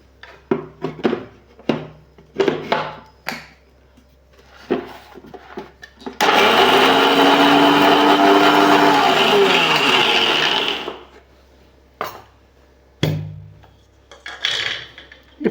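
A kitchen mixer grinder runs on urad dal for about five seconds with a loud whirring roar that slowly drops in pitch. Sharp clatters and knocks come before and after it.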